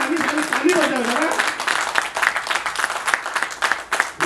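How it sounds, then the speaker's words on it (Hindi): An audience claps at a political rally in Delhi ahead of assembly elections. A voice speaks at the start, then fairly close, uneven clapping fills the rest, rising and falling in bursts. "आप ही बजा लो ताली, ताली बजा लो।"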